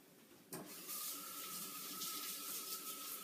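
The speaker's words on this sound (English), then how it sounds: "I'm going to rinse my hands" Tap water runs steadily into a kitchen sink as hands are rinsed, switching on abruptly and then continuing as a loud, even hiss with a faint whistling tone underneath.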